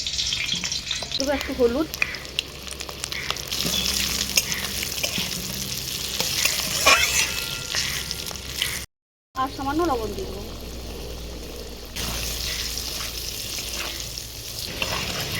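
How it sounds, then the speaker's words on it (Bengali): Potatoes sizzling and frying in hot mustard oil in a wok, with turmeric and salt added, a constant crackling sizzle with occasional stirring scrapes while someone talks over the cooking. "তেল গরম হয়ে গিয়েছে, আলুগুলোকে প্রথমে ভেজে নেবো"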